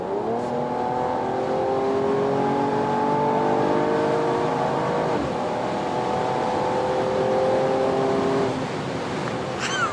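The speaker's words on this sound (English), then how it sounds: "What a fantastic engine, what a smooth engine." A 2020 Mercedes-AMG E53 4MATIC+ engine revs up smoothly, its pitch climbing steadily, then shifts and climbs again, loud and close with no talking.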